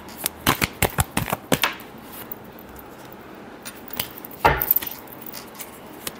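Tarot cards are shuffled by hand in a quick series of crisp riffling bursts, close and distinct, followed by a quieter pause and one more louder flurry near the end.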